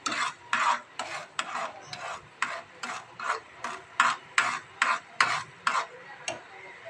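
Food stirred nonstop in a pan, about fifteen evenly spaced scraping strokes with a steady rhythm, close and distinct.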